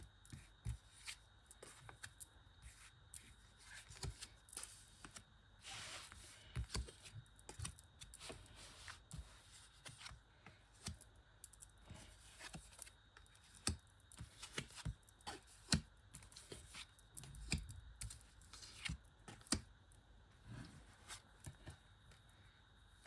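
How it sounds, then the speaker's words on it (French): Tarot cards are spread and drawn on a table, giving soft, close rustles, slides and light taps in irregular bursts over a quiet background. "Je vais étaler les cartes. Les tirer d'abord. Tirer les cartes."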